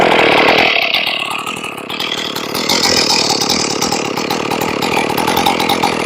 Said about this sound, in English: So we're going to fire it up. It should fire first pull here.